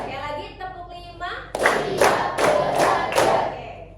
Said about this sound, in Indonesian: Sekali lagi tepuk 5.